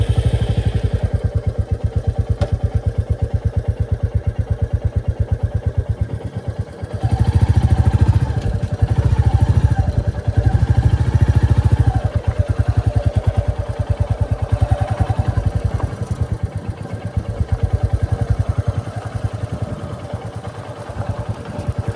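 Royal Enfield Bullet 350 Battalion Black motorcycle heading downhill on an off-road hill track, its engine thumping low and steady, swelling in loudness midway, with wind and clatter over it and no talk.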